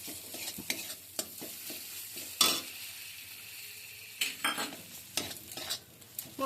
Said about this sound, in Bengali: যে মশলাটা ভালো করে আমি ভেজে নিচ্ছি।